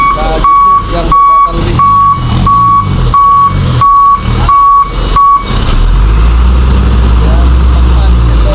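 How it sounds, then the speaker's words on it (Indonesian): A Hino truck reverses during a roadside evacuation on a steep climb, giving about eight loud, evenly spaced beeps over its engine, which then settles into a low rumble while people talk nearby. "satu unit truk"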